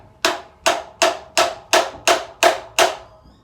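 A hammer taps a wedge into the front fork clamp of a Honda CT110 postie motorcycle, eight sharp metallic strikes at an even, quick pace, close and loud with no talking.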